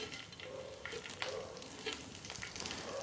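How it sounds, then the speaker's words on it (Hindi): Cumin seeds sizzle in a pan of hot oil, making a soft, steady frying crackle with a few brighter spits, heard alone and fairly quiet. "तो तेल गरम हो गया है और अब इसमें डाल देंगे हम थोड़ा सा जीरा"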